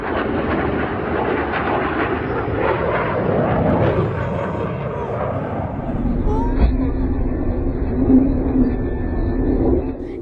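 Loud, steady jet roar from a Tejas light combat aircraft performing high-G aerobatics at the Dubai Airshow, a continuous rumble that lasts throughout with a voice talking over it.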